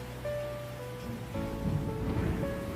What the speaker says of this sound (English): Thunderstorms moved across Ellis County overnight. Heavy rain, wind pushing across empty parking lot